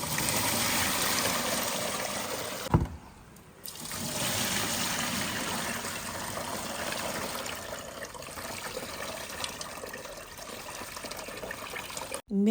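Koki beans are washed by hand in water for a Cameroonian dish, a continuous close sloshing and trickling with small splashes and one brief pause, with no voices heard.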